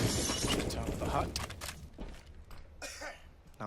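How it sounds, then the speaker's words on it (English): Glass breaking in the video game CS:GO during a NAVi vs Gambit match at the ELEAGUE Major 2018, heard as sharp shattering bursts amid gameplay noise, with a caster talking over it. "NAVi obviously breaking out the glass as well"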